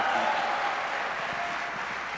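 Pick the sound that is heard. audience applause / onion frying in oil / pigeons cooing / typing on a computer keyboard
audience applause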